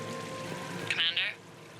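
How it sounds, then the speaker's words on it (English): A decorative fountain waterfall in Mass Effect 3 splashes and trickles softly in the background, with a short brighter burst of pouring water partway through and faint tonal game ambience underneath. "Please do not touch the waterfall. The fountain is decorative."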